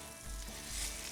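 Potatoes sizzle as they fry in butter in a pan, a close, steady crackling hiss that stays loud throughout the short stretch.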